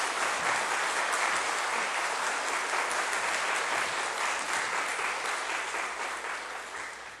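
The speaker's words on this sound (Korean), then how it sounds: "우리 성교사님 나오실 때 우리 한번 큰 박수로 이렇게 맞이해 주십시오." A church congregation applauds during a Sunday worship service, dense and sustained clapping filling the room for several seconds before slowly tapering off, with no voices over it.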